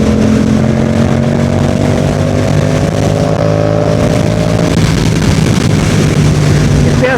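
A Yamaha MT-07 motorcycle being ridden gives a loud, steady engine drone with shifting pitch and heavy wind rush close to the rider.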